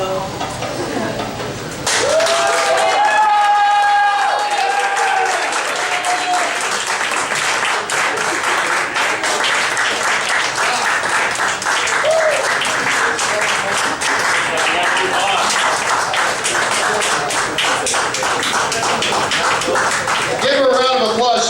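Loud, sustained audience applause with cheering at a hedonism-themed show, dense clapping running steadily for about twenty seconds after a brief opening of voices and a rising whoop.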